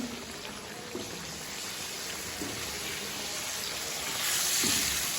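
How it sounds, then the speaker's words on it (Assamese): Chicken cooks in a pan beside fish frying on the stove, a soft steady sizzle with a few faint clinks that swells slightly louder near the end, no voices. "এয়া এতিয়া আমাৰ মাংস চিকেন বনি আছে।"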